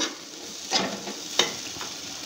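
Soft sizzling of semolina frying in a pan, broken by a few light scrapes and taps of a spoon stirring.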